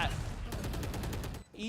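Rapid gunfire from a professional Valorant match, including Shorty shotgun shots, heard as a fast rhythmic series of sharp cracks over about a second, then a brief pause and another burst, with a caster's voice talking over it.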